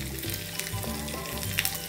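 Brief burst of cumin, green chillies and asafoetida frying in hot oil, a crackling hiss close up with a few sharp pops, no voices.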